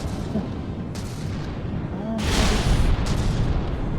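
Torpedo explosions in a naval battle video game, rolling booms and rumbling blasts over a dense steady din, swelling louder midway.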